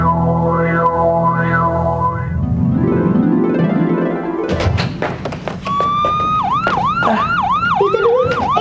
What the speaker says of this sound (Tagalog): Tito Luis, ayun pala yung ambulansang naririnig natin kanina.